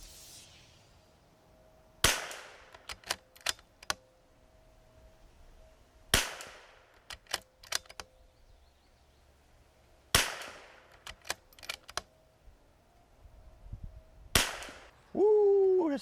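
Four sharp .22LR rifle reports fired with RWS R50 ammunition at a 50-yard target, each crack trailed by a short burst of clicks and mechanical handling, spaced about four seconds apart over a steady low hum, with a brief rising tone at the end.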